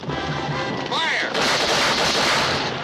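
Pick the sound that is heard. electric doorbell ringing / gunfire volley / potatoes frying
gunfire volley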